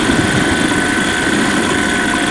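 A model aircraft engine held under power on a powered approach gives a steady, loud, continuous drone at fairly constant RPM, with no pauses or talk.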